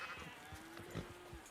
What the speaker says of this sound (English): We saw that man's sheep